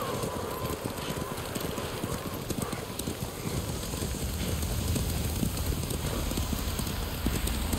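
Fast, continuous hoofbeats of a galloping horse in Ghost of Tsushima drum close and steady over a rushing, rain-like ambient wash for the full stretch.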